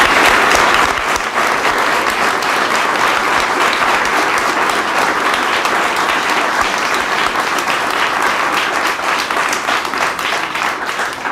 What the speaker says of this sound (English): Everybody give a nice round of applause for Brian Weed and Jill McCabe.